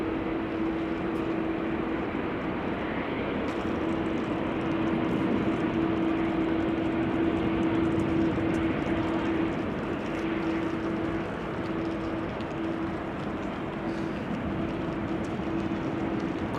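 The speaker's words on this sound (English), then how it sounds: "Primary runway for arrivals has become runway 18 center, where this Turkish A330 has landed on." A Turkish Airlines Airbus A330 on the runway at Amsterdam Schiphol Airport produces a broad, continuous jet roar heard from a distance, steady with a faint tonal whine and no voices.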